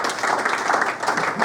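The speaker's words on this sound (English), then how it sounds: "I think it deserves a better applause" An audience at an evening event applauds after an address, a short, steady wash of many hands clapping at moderate volume.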